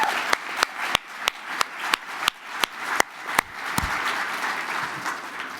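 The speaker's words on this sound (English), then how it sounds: "I want to take a round of applause for Ronnie, who's done amazing work here." Applause at a conference general session in New York City, with a few distinct sharp claps standing out in a fairly even rhythm over softer background clapping that thins out toward the end.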